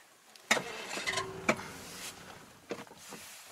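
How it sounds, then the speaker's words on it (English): A 1968 Daimler 250 V8 tried from cold with no choke, giving a few separate cranking bursts and brief catches that die away, close and fairly quiet, with no sustained idle. "we can start the car up"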